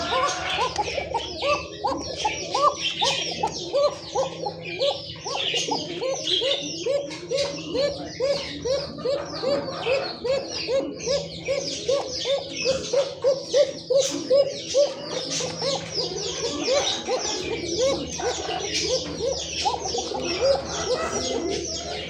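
Pigeons coo continuously in a bird market among domestic and foreign pigeons and chickens, a dense rhythmic chorus of soft throaty calls with faint chirps, as people talk nearby.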